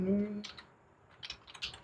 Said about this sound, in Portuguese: Eu tenho que digitar continue